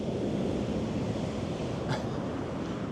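Sea waves wash and roar continuously in a dense, broad rush, with wind buffeting the microphone, on a Montenegro coast.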